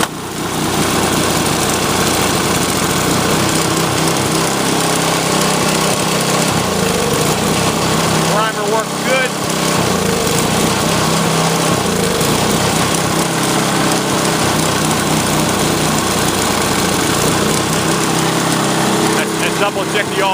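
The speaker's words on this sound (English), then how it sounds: "we'll go ahead and fire up here with just putting it on choke, and we'll turn the ignition key on" A Sears snowblower engine on choke runs loud and steady, a constant droning hum throughout, with a brief dip in the middle and slight unevenness near the end.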